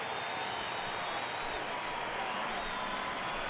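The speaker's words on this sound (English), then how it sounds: "I can hear the crowd murmuring now, wondering if he hit him on purpose" Baseball stadium crowd from the MLB The Show 18 video game, a dense continuous murmur of many voices that stays even and moderately loud.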